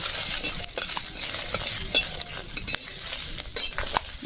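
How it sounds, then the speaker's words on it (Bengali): Dried and green chillies fry in a pan with a continuous close sizzle, broken by scraping stir strokes and clicks from a utensil, and no talking. "শুকলা লঙ্কা কাঁচা লঙ্কা দিয়ে দিচ্ছি।"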